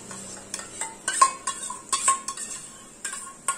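A utensil stirs an okra and gram flour curry with sour yogurt in a pan, producing repeated scraping clinks and taps at an irregular pace over a faint background, with no voices.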